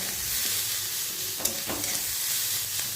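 Paneer curry sizzles steadily in a pan while a spoon stirs it, with a soft scrape or two breaking through the constant frying hiss, close and even throughout.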